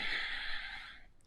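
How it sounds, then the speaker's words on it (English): A single audible breath, a soft airy exhale drawn out over about a second during a Vinyasa flow yoga class, close and fairly quiet. "Inhale up, exhales down."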